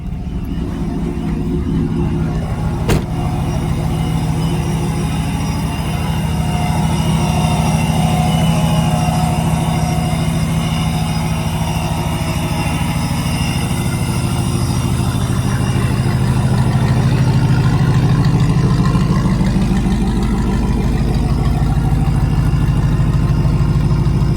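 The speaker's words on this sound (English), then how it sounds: "When it first starts, it actually sounds super tame. It doesn't do that high idle as long." A boosted Hemi V8 idling during warm-up, a continuous deep rumble with a brief knock early on, the tone swelling gently in the latter half; steady and close, no voices.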